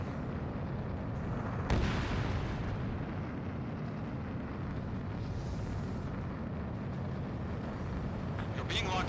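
Bombs explode in the combat flight game Ace Combat 7 as a deep rumbling roar that holds for the whole stretch, with one sharp burst near the start and a voice speaking over it.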